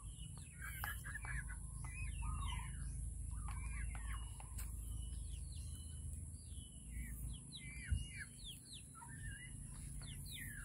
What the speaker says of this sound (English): The native chicken.